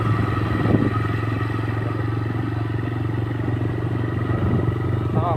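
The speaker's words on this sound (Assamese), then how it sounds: "বাইক চলাই আছোঁ।" A motorcycle on the move, with a steady close engine drone and wind rumble throughout, a few faint rattles over it, and no change in pace.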